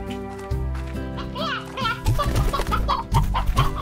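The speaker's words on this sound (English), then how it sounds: "That's a lot of chickens." Chickens cluck in a Slime Rancher video game, a busy run of short repeated clucks over music, mixed under close talking voices.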